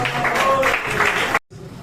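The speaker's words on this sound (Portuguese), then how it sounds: "Poder se sentar batendo a linda salva de palmas com reverência ao nome do Senhor" A church congregation claps together in a dense, steady wash of applause that fills the room, then cuts off abruptly into near silence.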